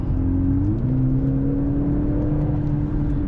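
A steady engine drone from a 2024 Mercedes-AMG C63 S with a 2-litre engine, piped through the car's speakers, hums loudly throughout, its pitch stepping up briefly as if revving, heard from inside the vehicle with no talking.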